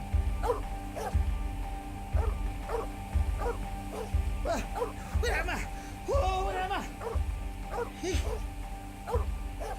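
Repeated dog barks and yips at a steady pace under a person talking, with some game-like tones in the background, from the video game The 39 Steps.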